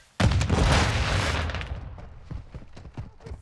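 A flashbang grenade goes off in the video game Call of Duty: Modern Warfare II with a sudden loud bang that rings and fades over about a second. Scattered softer pops and thuds follow.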